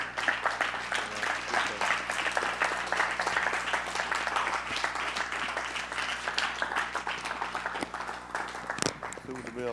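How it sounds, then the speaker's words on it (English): A livestream congregation gives a round of hand claps, many individual claps overlapping into moderate applause that rolls on and thins toward the end, with voices faintly underneath. "I'll give Miss Yahuwah another hand clap"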